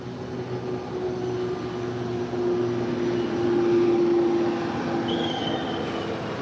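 An Atlas Air Boeing 747 takes off on runway 25 left at Los Angeles International Airport, a steady heavy jet roar. Distant engine noise holds constant throughout and swells slightly midway, with no talk.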